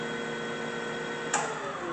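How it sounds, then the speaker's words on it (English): Supermax Series II horizontal/vertical milling machine with its horizontal spindle running at 1300 RPM, a steady close mechanical hum with a faint whine, one brief click partway through. "First, I'll bring on the horizontal spindle."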